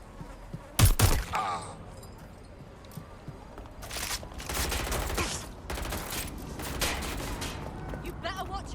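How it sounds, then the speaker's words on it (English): Gunfire in Watch Dogs: Legion, a sharp close crack followed by scattered bursts of shots and impacts over background game noise, fairly loud throughout. "Look out, taking fire."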